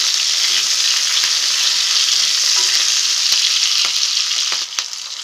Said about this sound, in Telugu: వెల్లుల్లి కాస్త వేగాక ఉల్లిపాయలు, గ్రీన్ చిల్లీ వేసి కాసేపు ఫ్రై చేయించాలి.